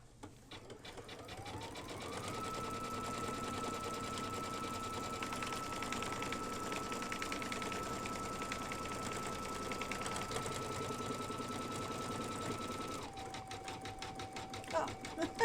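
An embroidery sewing machine stitches a bean stitch in a rapid, steady mechanical chatter with a constant motor whine that shifts pitch near the end, heard close under quiet talk.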